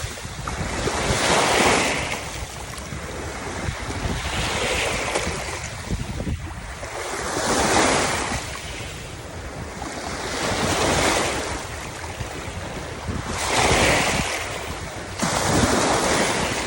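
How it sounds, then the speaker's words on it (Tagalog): Strong ocean waves crash onto a beach in repeated surges every few seconds, each building to a loud roar of surf and falling away, with wind noise throughout and no voices. "lakas talaga ng alon"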